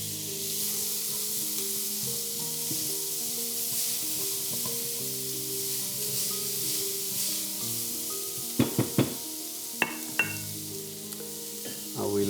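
Butter sizzling steadily in a pan over low heat, a continuous close hiss with a few clinks of a utensil near the end and no speech.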